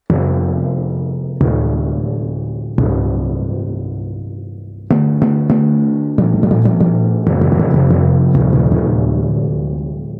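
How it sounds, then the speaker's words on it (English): Orchestral timpani strikes boom and ring out, a few single hits letting each tone decay before a quicker run of rolling strokes, loud and alone. "Timpanis."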